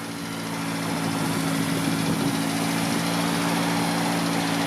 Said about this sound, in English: You hear the idle's smooth,